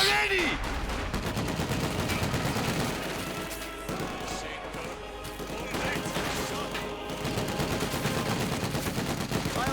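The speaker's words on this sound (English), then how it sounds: "50 cal machine gun continues to rake down and kill" Continuous gunfire from a .50 cal machine gun and other weapons in a Company of Heroes 2 match, dense rattling bursts and explosions under a commentator's voice.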